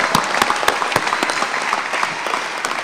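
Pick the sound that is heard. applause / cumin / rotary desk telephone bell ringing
applause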